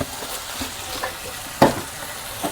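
Spices fry in oil in a pan with a low, constant sizzle, while a spatula scrapes and stirs at intervals. One sharp scrape or clink stands out near the middle.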